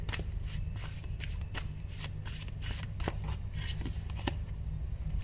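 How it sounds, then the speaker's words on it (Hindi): Tarot cards are shuffled and drawn close by, a continuous papery riffling with occasional sharper snaps and flicks over a low steady background. "और एक फाइनल कार्ड यहां से निकालेंगे"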